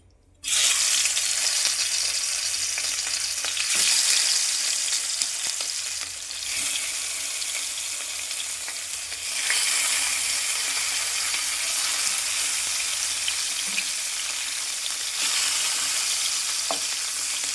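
Fish frying in hot oil in a pan for a Bengali fish curry, a steady close hiss and crackle that starts abruptly, runs continuously and swells louder partway through, with no talk.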